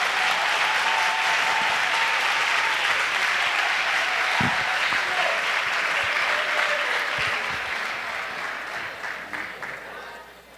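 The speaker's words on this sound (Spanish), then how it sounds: "Dese un aplauso que lo You guys hicieron all bien." A crowd applauds at a grand opening ceremony for the first stage of City of Hope, a dense, sustained wash of clapping that holds steady and then tapers off toward the end, with a few louder thumps inside it.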